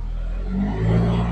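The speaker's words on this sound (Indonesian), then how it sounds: "Coba digas dikit, agak digantung ya, digas dikit" Cold-started Nissan X-Trail T30 engine held at a slightly raised idle and given light throttle, a steady close low rumble that swells briefly near the end, with no talk.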